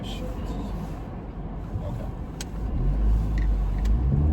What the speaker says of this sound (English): I'm on the highway right now. I'm driving to the airport